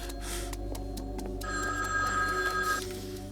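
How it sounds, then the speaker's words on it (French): Telephone ringing indoors, a bright electronic trill with repeated bursts, fairly close and alone over a low background hum. "va répondre au téléphone"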